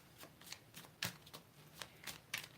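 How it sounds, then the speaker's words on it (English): Tarot cards being shuffled by hand, a quiet series of crisp riffling flutters at an irregular rhythm, several sharper snaps standing out, close to the microphone with no talking. "in addition to the cards that I'm shuffling to pull this month"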